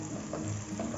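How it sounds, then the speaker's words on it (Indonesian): Ground garlic and chili paste blended with water sizzles as it is sautéed in oil, a steady close crackle with soft stirring, alone and without talk. "Kita tumis hingga matang atau bau langu dari cabenya ini tidak terlalu menyengat lagi ya teman-teman."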